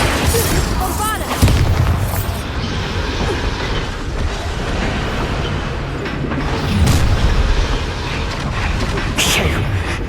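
Bombarda spell explosions in Hogwarts Legacy, heavy rumbling blasts with booming low-end surges over continuous loud game combat noise, with speech mixed in.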